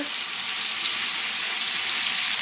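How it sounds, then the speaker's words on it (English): Vegan steak sears in a hot pan, giving off a loud, even, continuous sizzle with a bright crackling hiss that holds steady throughout, no talking. "I'm just going to put in the pan. Going to cook, sear."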